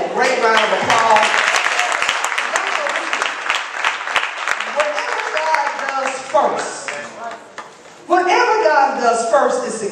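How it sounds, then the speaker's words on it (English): Loud, dense applause from a large crowd fills the space, fading briefly before a voice rises over the clapping near the end. "Give yourselves a great round of applause"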